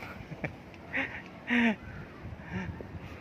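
A duck quacks a few times outdoors, with one loud, drawn-out call standing out among shorter, fainter ones.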